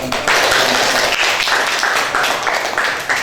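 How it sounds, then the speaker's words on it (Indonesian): Audience applause in a campus classroom, a dense burst of many hands clapping that holds steady for a few seconds, close and loud. "Yang dari ya, diberikan aplaus."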